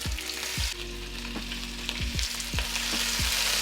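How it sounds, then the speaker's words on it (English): Continuous loud sizzling and crackling of Spam frying in hot oil in a small frying pan over medium heat, close up, with occasional scraping taps of a utensil in the pan. "in a small frying pan, we want to preheat some oil on a nice medium heat and drop in the spam"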